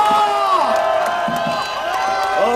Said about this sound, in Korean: 여러분 큰 박수와 함성을 부탁드립니다